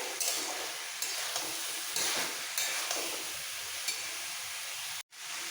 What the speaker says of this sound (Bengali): মশলার সাথে এবার সবজিগুলো কষিয়ে নিতে হবে